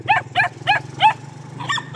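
A dog barks five times in a steady rhythm, close and loud, followed by a higher yip, with a low hum running underneath.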